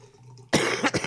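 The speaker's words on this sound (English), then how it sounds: "Maybe that'll stop my fucking coughing." A single harsh cough bursts out close to the microphone after a quiet moment, followed by a quick second hack.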